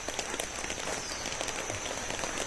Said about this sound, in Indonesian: Hujan lagi kawan.